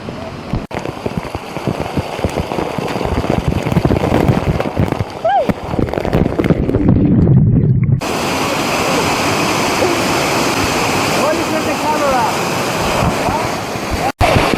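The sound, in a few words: waterfall rushing in Bonito, Brazil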